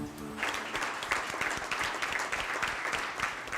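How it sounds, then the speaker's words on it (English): Members of a school board of education at a meeting clap for their resigning chairwoman, a close, steady round of applause with no talking. "the JCPS Board of Education tonight applauding Chairwoman Diane Porter"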